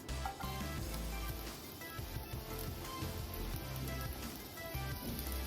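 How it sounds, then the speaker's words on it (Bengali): Chopped onion frying in hot white cooking oil in a pan, a steady soft crackling sizzle with scattered pops throughout, no talking. "তেলটা হালকা গরম হয়ে গেলে আমি এখানে দিয়ে দেবো প্রথমে কেটে রাখা পেঁয়াজ কুচি।"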